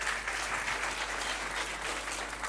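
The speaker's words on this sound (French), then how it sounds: "On applaudit très très fort pour son choix." Steady, dense applause from a school audience at a high-school quiz contest, an even wash of many hands clapping together without a break.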